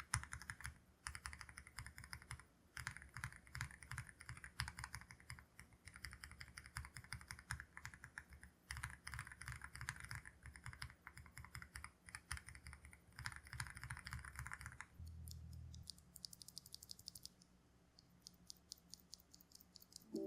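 Steady, quiet typing on a keyboard with Durock T1 tactile switches, which have a long 2.4 mm pre-travel. Dense key clacks run continuously before thinning into a few scattered presses near the end.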